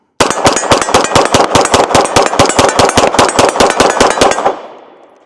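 An Atlas Titan 2011 pistol fires a fast, even string of about twenty loud, close shots, ending in a fading echo.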